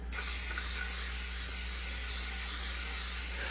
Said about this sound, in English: And I'm gonna spray it really well.